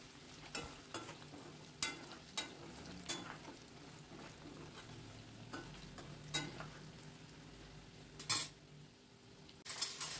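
Boiled chicken pieces frying in hot oil in a pan for chicken pickle, a faint steady sizzle broken by scattered utensil clinks and stirring scrapes, with no talk.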